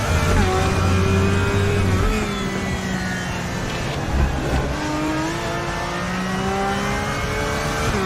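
Simulated Porsche race car engine at the Nürburgring Nordschleife in RaceRoom, a steady loud engine drone that rises and drops through gear changes over eight seconds, with no talk.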